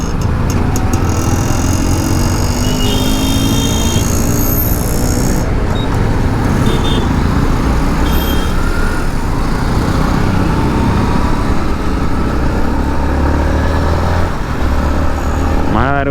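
A Yamaha MT-15 motorcycle engine runs steadily as the bike is ridden and accelerates in the rain, a loud continuous drone with wind and road noise throughout.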